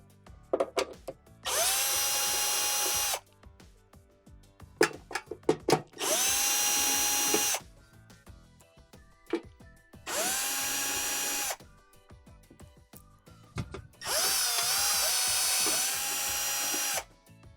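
Power drill backing 1/4-inch screws out of the top inner cover of a Whirlpool Swash washer, four loud sustained whirring bursts, each about two seconds, separated by clattering handling and clicks, close up with no talk.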